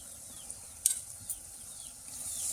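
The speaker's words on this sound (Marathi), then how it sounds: "मसाले चांगले तेलात मिक्स करून घेते" Ground spices stirred into hot oil for a clam (kalva) masala gravy, a faint steady sizzle with a couple of brief sharp scrapes of the spoon, no voices.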